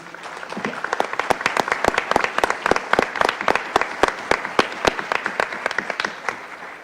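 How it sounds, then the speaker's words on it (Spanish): An audience applauds for Rodrigo at a sports management event, a steady run of dense, sharp claps that carries on loud and unbroken throughout. "Yo pido un aplauso para Rodrigo"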